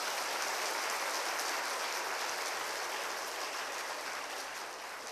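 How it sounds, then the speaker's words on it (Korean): Church congregation applauding to welcome a pastor at a Wednesday service, a dense, even wash of clapping that fills the whole stretch and tapers slightly at the end. "우리 박수로 목사님 맞이하겠습니다."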